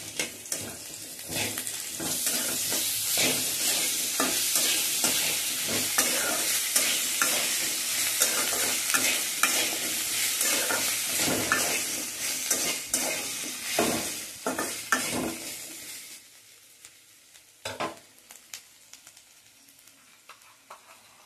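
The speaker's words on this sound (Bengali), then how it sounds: "দিয়ে এটা আমি হালকাভাবে ভেজে নেব আদাটাকে" Ginger frying lightly in oil in a pan over a low flame, a loud continuous sizzle with spoon stirring and scraping that fades out near the end, leaving a few isolated clinks.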